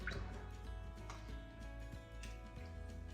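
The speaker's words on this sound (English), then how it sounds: "We're going to add our cherries." Cherries are spooned into a pie crust in a baking dish, giving faint wet drips and soft squishy plops at a few irregular moments against a quiet background.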